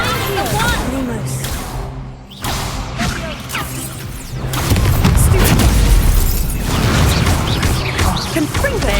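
A Confringo fire spell explodes in Hogwarts Legacy, amid layered combat booms, whooshes and crashes that swell loud through the second half, with game music underneath.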